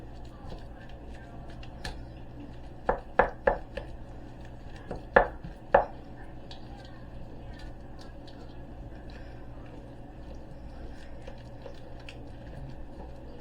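Crab rangoon filling being mixed in a bowl, heard as a short cluster of sharp spoon clacks and scrapes in the middle, then a quiet stretch with only a low background hum.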